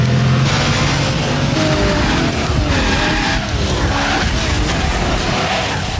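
An Enzo Ferrari skids in the Project Gotham Racing 2 racing game, loud continuous tire squeal over a roaring engine that rises and falls for several seconds.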